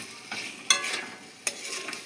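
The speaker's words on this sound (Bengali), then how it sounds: "এই আলুটারে একটু মশলার ভিতরে একটু কষিয়ে নেব" Potatoes are stirred and fried in a spice masala in a pan, a soft continuous sizzle broken by a few sharp scraping stir strokes, with no talking.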